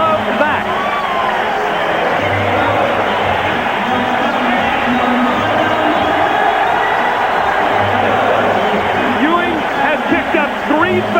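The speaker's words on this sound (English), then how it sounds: "And this crowd loves that." Arena crowd at a 1992 Knicks versus Bulls NBA playoff game roaring and cheering, a continuous loud wash of crowd noise with whoops throughout, under a commentator talking.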